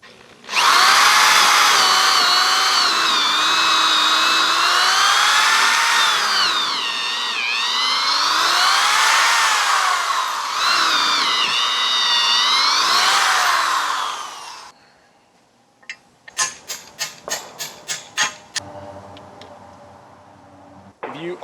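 A power drill runs close and loud for a long stretch, whining and shifting pitch as it drives bolts into a backyard calisthenics frame, then falls quiet before a series of short sharp clicks and bursts.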